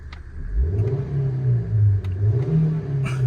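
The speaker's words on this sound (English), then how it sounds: "Let's give it a rev" A 2006 Suzuki SX4 with a 1.6 litre engine revs up from idle in a quick rise, then holds a steady elevated drone with slight wavering, loud and close, with no voices.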